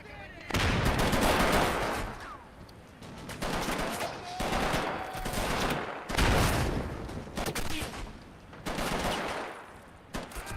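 Machine-gun fire crackles in a real-time strategy wargame as an MG team shoots through a smoke screen, bursts of rapid shots recurring loud and close with short pauses between, overlapping other battle noise.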